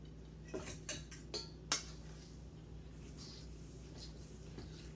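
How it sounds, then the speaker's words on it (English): A spoon stirs wet breakfast bar batter into the dry mixture in a bowl, giving a few quick, light clinks early on over quiet kitchen room tone. "I'm going to go ahead and add my wet mixture into my dry mixture. And then I'm going to mix it all up."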